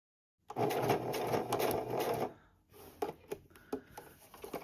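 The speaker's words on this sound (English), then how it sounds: "I see some stitching, so I'm going to back stitch from there." Sewing machine back-stitching a fabric scrunchie, a steady dense whir for about two seconds, then a pause and a run of short separate stitching bursts, close and moderately loud.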